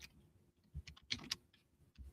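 A few quiet, irregular key taps on a computer keyboard at a live auction desk, soft scattered clicks with short pauses between them and no voices.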